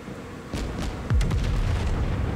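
Battleship secondary guns fire in a naval combat video game, a run of sharp booming shots landing in quick, uneven succession, loud and close, with no talk.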